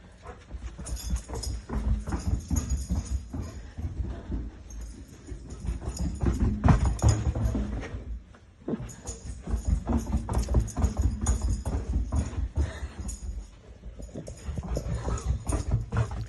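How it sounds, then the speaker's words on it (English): Dog off its leash galloping along a hotel corridor, paws pattering and clattering in quick rhythmic bursts up close, with a short pause midway and panting, no talk. "he gallops from one end of the corridor to the other"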